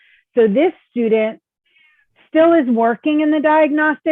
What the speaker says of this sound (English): my cat is stuck in here if you hear meowing